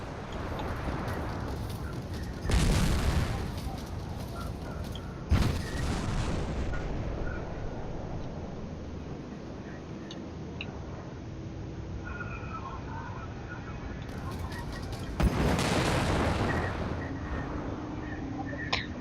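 Plasma cannon fire from a starfighter in the space combat game Strike Suit Zero: three loud, sharp blasts at irregular intervals, each fading out over a steady electronic ambient hum.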